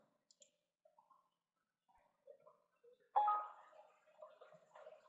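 Sparse, quiet mouse clicks while working in CATIA part design software, a handful of soft separate ticks at an uneven pace, then a slightly louder cluster of clicks and faint handling noise near the end.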